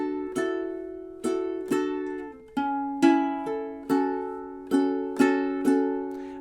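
Ukulele strumming runs through measures 15 and 16 of a song, about nine crisp chord strums in a steady rhythm, each ringing out before the next, played solo and up close.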